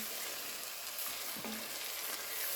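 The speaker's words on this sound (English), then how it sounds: "Just keep stirring it and adding your chicken broth." Flour gravy sizzles and bubbles in a pan as chicken broth is stirred in, a soft continuous hiss with faint scraping, quiet and close.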